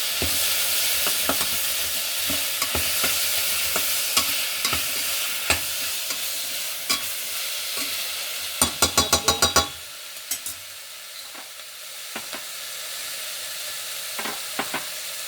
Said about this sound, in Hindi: और अब हम इसको एक बार चला देते हैं